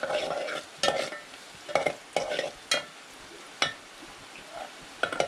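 Onion frying in oil until reddish, for a crab curry: a steady soft sizzle broken by repeated scraping stirs of a spoon in the pan, close and fairly quiet.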